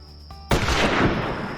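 A rifle shot in the hunting video game Call of the Wild, set in Africa, fired at an animal about 200 yards off: a single loud, sharp crack followed by a long rolling echo, after a quiet lead-in.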